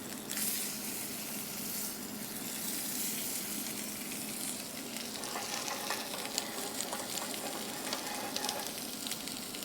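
Steady, crackling sizzle of potatoes frying in a hot pan, a continuous close hiss with faint stirring scrapes and no talk.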